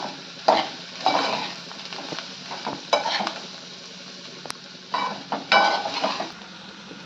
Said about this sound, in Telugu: ఇప్పుడు ఇవన్నిటిని ఒకసారి కలుపుకోవడం